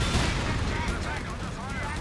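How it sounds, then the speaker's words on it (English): An incendiary artillery barrage in the video game Company of Heroes 3, a dense and continuous roar of shelling with rapid, overlapping blasts and crackles. "Nice use of incendiary barrage"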